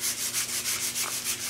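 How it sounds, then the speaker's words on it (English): Sandpaper roughs up the surface of a skateboard deck in quick, even back-and-forth strokes, a close, raspy rubbing that repeats about every quarter second with no voices. "don't have to overly work the sanding, but basically we're just gonna rough the surface up"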